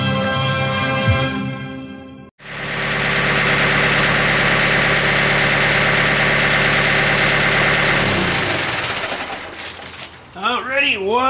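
A tractor engine idles at a steady, loud drone for several seconds, preceded by a brief softer mechanical sound and a sharp cutoff, then the running note fades into rising and falling whirring toward the end.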